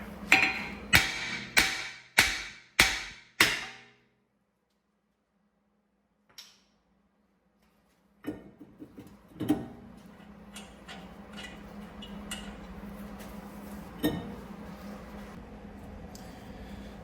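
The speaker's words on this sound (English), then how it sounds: "I might need to use a bigger hammer" Five sharp metallic hammer blows on a brake rotor of an Audi A5 ring out in quick succession, then quiet, followed by a few scattered clanks over a low hum.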